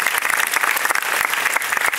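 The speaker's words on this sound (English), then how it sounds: "Can we give her a big round of applause?" An audience applauds in a hall, dense steady clapping from many hands filling the space without a break.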